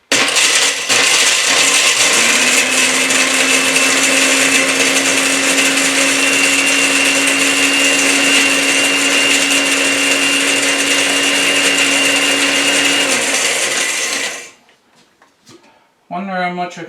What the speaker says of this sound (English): So I'm going to try and grind it in this blender here now.